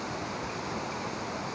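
Abbey Falls in Kodagu, Karnataka, a steady, dense rush of falling water that fills the whole clip evenly without a break, heard from a viewpoint with no voices over it.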